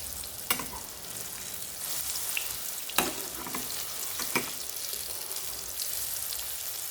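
Egg and banana frying in a very hot pan, a steady soft sizzle with occasional sharper pops and crackles, close up with no talking.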